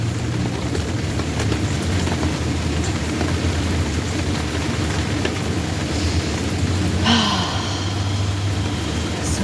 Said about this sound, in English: It's so nice to sit out in the rain.